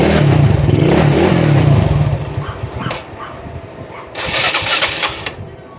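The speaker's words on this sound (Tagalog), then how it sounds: "saka natin birating yung motor" A motorcycle engine cranks and fires up after full-wave wiring work, a loud close starter grind settling into a rough idle, then a brief rev near the end, with no talk.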